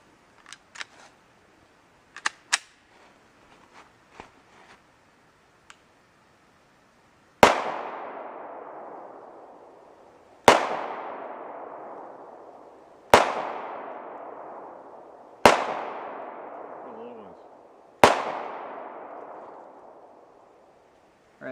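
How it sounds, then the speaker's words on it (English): Five loud 9mm full metal jacket pistol shots, fired from a 3.5-inch barrel at about 20 feet, strike homemade fiberglass armor outdoors. Each is a sharp crack with a ringing tail, spaced a few seconds apart, after scattered small clicks and taps. "I'm shooting the fiberglass armor. This is from a distance of about 20 feet. And I'm using, I'm firing 9mm full metal jacket"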